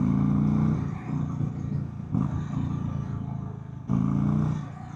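A 2025 Indian Springfield Dark Horse motorcycle being ridden, its big V-twin engine rumbling loudly with rises and dips in revs as the throttle opens and eases through gear changes.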